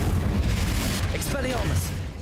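A Confringo fire spell goes off in the Hogwarts Legacy video game as a loud, sustained rumbling burst that fills the whole moment, with a voice mixed into the blast.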